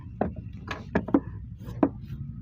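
Scissors cut blouse fabric for a 41-inch-chest blouse during tailoring, giving several separate crisp snips at uneven intervals, close and fairly loud against a quiet room.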